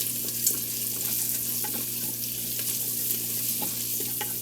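Spices being stirred into a hot Instant Pot-style pressure cooker pot for vegan kichuri, a soft steady sizzle with scattered light scraping strokes and taps of the spoon, close and without talk.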